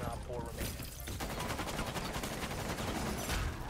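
Rapid video game gunfire from Rainbow Six Siege, a dense sustained burst of automatic shots with loud crackling reports filling the whole stretch, alongside other in-game noise.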